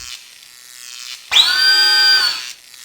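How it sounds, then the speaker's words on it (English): A drill in the DOS game Star Trek 25th Anniversary bores through a panel seal, a loud, steady electric whine that starts suddenly and holds for about a second before cutting off, after a quieter hum. "The drill easily breaks through the seal"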